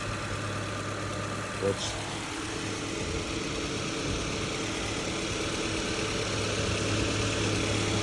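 A 2017 Honda Civic's K20C2 2.0-liter naturally aspirated inline-4 with i-VTEC idles steadily nearby, a low, even hum with a brief voice partway through.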